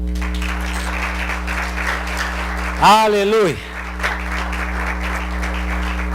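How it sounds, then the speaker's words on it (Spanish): Church congregation applauding during a Spanish-language service, a broad wash of clapping under a sustained musical drone, interrupted briefly by a single voice calling out before the clapping carries on. "Un aplauso al Señor."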